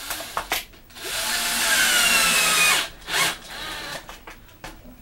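A power drill drives screws into a homemade outdoor HD antenna built from cans, whirring in a sustained burst followed by a shorter second burst and some handling noise.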